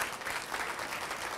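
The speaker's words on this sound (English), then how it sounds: "let's applaud for that" An audience at an evening charity event applauds, a steady wash of many hands clapping at moderate volume with no voices over it.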